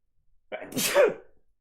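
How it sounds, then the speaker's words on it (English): A single loud, close sneeze, a quick intake of breath and then a sharp burst. "I'm about to sneeze."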